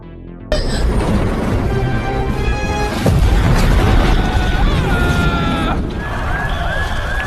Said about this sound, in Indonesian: Namun yang meledak cuma satu, yang dibuang oleh Sony, ke dalam sebuah tong sampah.